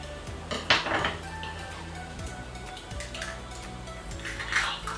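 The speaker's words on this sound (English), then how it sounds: "you always want to crack your eggs on a flat surface. So I always use the back of my knife." Eggs cracked against the back of a knife: two sharp, close knocks with a metallic clink, spaced a few seconds apart, with quiet kitchen handling sounds in between.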